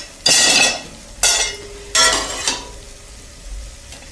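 Vegetables being stirred in a hot pan and lifted out, three bursts of scraping sizzle and clatter with pauses between, close and fairly loud, no voices.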